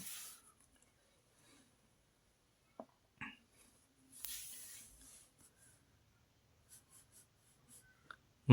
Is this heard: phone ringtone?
no